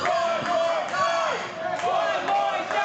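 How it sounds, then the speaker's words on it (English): Crowd roaring and cheering at a New Texas Pro Wrestling event as Axe Manson lands chops on Sharp, loud and continuous with rising shouts; individual slaps are not clearly separable within the crowd noise. "As the crowd loving these chops to Sharp from Axe Manson"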